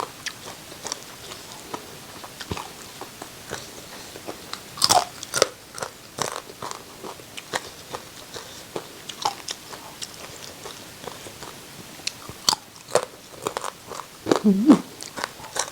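Crispy baked sweet fish is bitten and chewed up close. Sharp crunches come at irregular intervals over a quiet background, with no talk.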